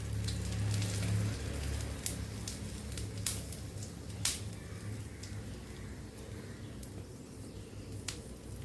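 Cloves, cardamom and mace fry in hot ghee with a soft, steady sizzle and scattered light crackles and pops, faint and close, with no one talking.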